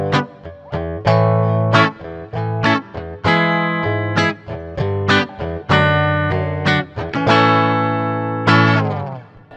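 Strummed chords from a Glarry GTL semi-hollow electric guitar, played as rhythm guitar with an effects-coloured tone, in a steady sequence of ringing chord hits with short gaps, loud and close, with no talking.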